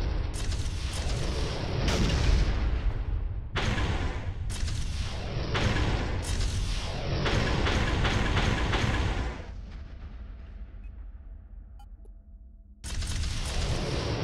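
Spaceship guns fire in the space game Astrox Imperium as rapid, dense bursts of clattering shots in several long volleys with a brief lull before a final burst, loud and close.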